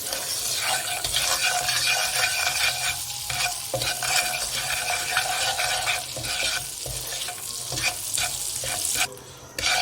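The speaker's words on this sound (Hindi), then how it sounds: "इसको अच्छी तरह मिक्स करेंगे बटर को, ताकि नमक और बटर सारा अच्छी तरह मिक्स हो जाए" Butter and salt stirred in a kadai before popcorn goes in, a steady scraping stir with a light sizzle running continuously and fairly close, with no talking.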